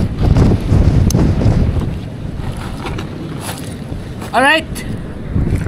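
Strong Amihan monsoon wind buffets a boat at a fishing spot, a loud, steady roar of gusting noise and rumble across the whole stretch, with a person speaking briefly over it.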